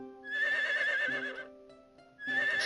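A horse neighs in Harvest Moon: Winds of Anthos, two loud, close whinnies separated by a short pause, with a quiet hum between them and no talking.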